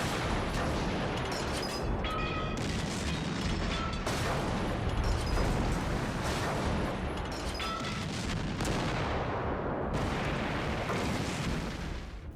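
German artillery shelling at Verdun in 1916, a dense continuous barrage of booming shell blasts and rumbling detonations, loud and relentless with no pauses, heard without any voices.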